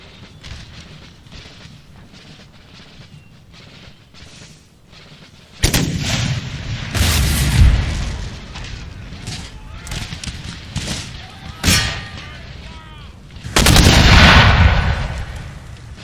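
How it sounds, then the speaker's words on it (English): Mortars fire in an Empire: Total War defensive battle: after a quieter rumbling stretch, two heavy booming blasts land several seconds apart, with smaller distant shots and thuds between them. "These mortars have proved invaluable in defense."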